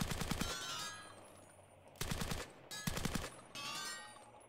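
Heavy weapon bursts from a Minecraft game come in three rapid volleys of close, punchy shots, each followed by a lingering ring and decay, with no voices.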